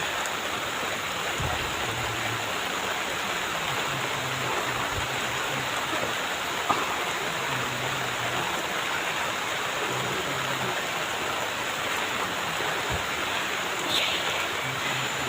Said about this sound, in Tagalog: Umuulan na yung cellphone natin.